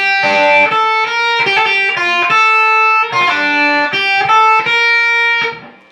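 Distorted electric guitar plays the riff, loud sustained chords and bent notes in a choppy rhythm, ringing out and fading at the end, with no talking.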